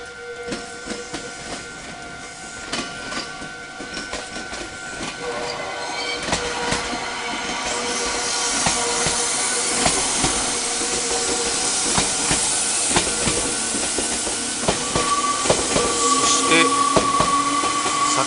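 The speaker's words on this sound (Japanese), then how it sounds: "前方の犬山駅から列車がやってきまして、左のポイントに入りました。" A Meitetsu Inuyama Line train rolls past over rail points near Inuyama Station, with rhythmic wheel clatter over track joints, growing louder, metallic squeals and hissing mixed in.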